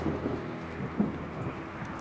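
Steady rain with a low rumble of thunder outside during a scene in a Persian TV drama, a broad constant wash with one slightly louder swell near the middle, heard alone without talk.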